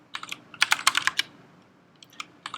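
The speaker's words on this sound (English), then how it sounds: "I'm typing some stuff which isn't right yet" Typing on a computer keyboard while working on graph algorithm code: bursts of close, crisp key clicks in quick runs, a dense cluster in the middle, then a few scattered taps near the end.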